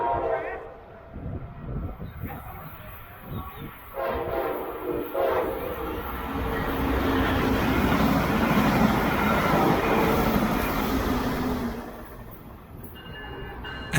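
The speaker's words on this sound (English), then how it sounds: "Here is bright pink passing the station." A Brightline train passes through a station, its rumble swelling to a loud, sustained roar of wheels and rail noise before easing off, with a horn note near the start.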